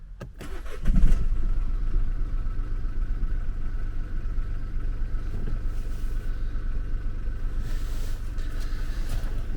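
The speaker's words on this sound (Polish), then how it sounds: "to jest silnik trzycylindrowy, także kultura pracy tej jednostki pozostawia trochę do życzenia" A BMW 218d's B37 three-cylinder diesel cranks and fires after sitting overnight, then settles into a steady, slightly rough idle that carries on close and even, with no voices.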